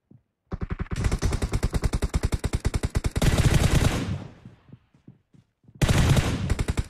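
M4 rifle fire in PUBG Mobile rattles out in long, rapid automatic bursts, loud and close, with a sustained stream of several seconds, a short pause, then another heavy burst.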